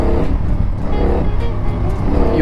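A CFmoto 450NK motorcycle's engine pulls hard under throttle, a loud, close, continuous roar that swells in waves as the rider twists the grip, with no pauses across the whole stretch.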